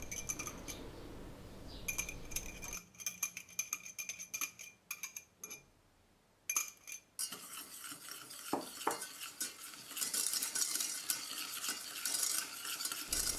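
Sugar and egg yolks stirred together in a pot, with scraping, clinking utensil strokes against the metal in uneven bursts, brief quiet gaps between them, close and moderately loud.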